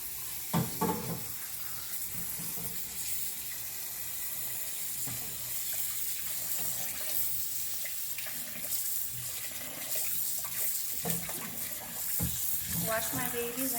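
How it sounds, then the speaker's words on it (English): Cold tap water runs steadily into a kitchen sink while peeled potatoes are rinsed by hand, a constant splashing hiss with occasional knocks and clatters of the potatoes, fairly quiet and without talk. "Now I'm going to rinse my potatoes under cold water."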